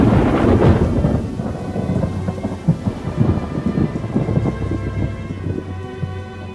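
Heavy rain pours down steadily while thunder rumbles and cracks, loud at the start and rolling on through the downpour before easing slightly toward the end.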